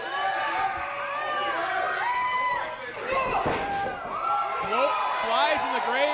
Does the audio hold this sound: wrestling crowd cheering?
yes